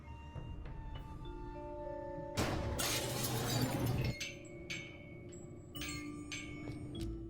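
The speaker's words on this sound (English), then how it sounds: "I got rid of the glass above the door to the lab." Glass shatters loudly in the Cthulhu adventure game Gibbous, a single crash lasting about two seconds above the door to a lab, set against steady background game music.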